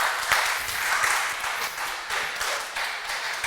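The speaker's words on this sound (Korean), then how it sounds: "잘했다고 생각하면 크게 박수 한번 더 보내주세요" A church congregation applauds the singers with loud, dense clapping that continues without a break through the whole short stretch.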